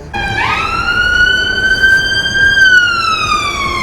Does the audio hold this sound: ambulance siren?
yes